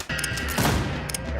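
Rapid gunfire from the Western video game Westerado rattles out as a dense, continuous burst of overlapping shots, loud and close, filling the whole moment without any talk.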